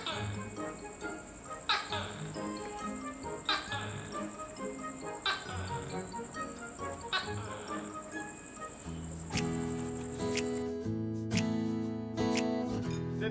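Crickets chirp at night, a steady high insect trill running through the whole stretch alongside other background sounds and music-like tones.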